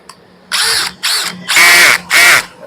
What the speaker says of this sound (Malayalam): നമുക്കിതിൻ്റെ മെഷീൻ വർക്ക് ചെയ്തിട്ട് ഇതിൻ്റെ പവർ എങ്ങനെയുണ്ട് കാര്യങ്ങളോ അതിൻ്റെ സ്ക്രൂവും കപ്പാസിറ്റി ഒക്കെ ഒന്ന് കാണിച്ചു തരാം